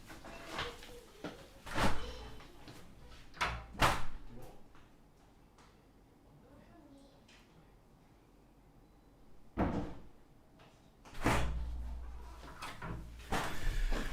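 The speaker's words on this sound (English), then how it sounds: "I need to close the door for my kids' room" A door to a children's room is shut indoors, giving a few loud thumps and knocks spread through the span, with quieter shuffling between them and no talk.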